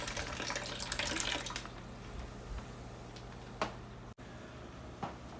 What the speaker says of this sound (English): I'm pouring the water in here so that in case the fish goes with it, there's actually something for it to live in